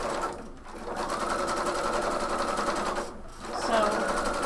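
Sewing machine stitching a bomber jacket, running in long steady bursts with two short pauses, close and loud, with a voice talking over it.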